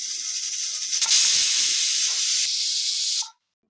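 A pressure cooker on the stove cooking pepper mutton masala lets out a loud, continuous steam hiss for about three seconds before it cuts off abruptly, leaving near silence.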